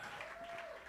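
A church congregation applauding in celebration of a couple's first wedding anniversary, a steady wash of clapping that fills the whole moment with no pauses.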